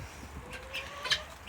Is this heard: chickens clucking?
yes